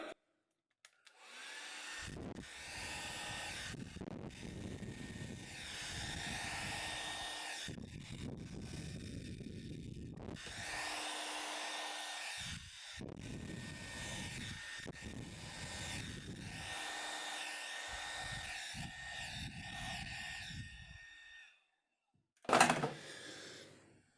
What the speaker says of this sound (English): I'm going to get the hairdryer out.